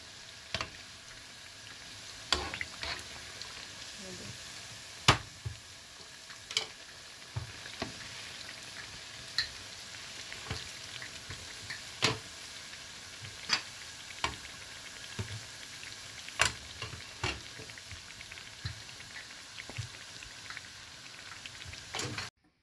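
Afghan khajoor fried cookies cooking in a pan of oil: a faint, steady sizzle broken by scattered sharp clicks and taps, with no voices.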